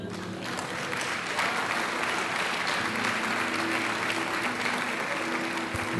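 A church congregation applauds in sustained, dense clapping that holds loud and steady throughout, with faint voices mixed into the crowd.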